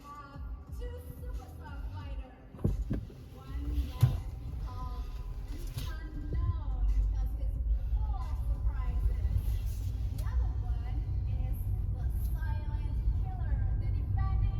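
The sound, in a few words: Tesla car driving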